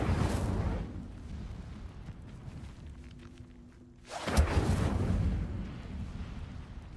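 An Incendio fire spell goes off in the Hogwarts Legacy video game: a roaring burst of flame, then a quieter lull, then a second loud fiery whoosh that rumbles on to the end.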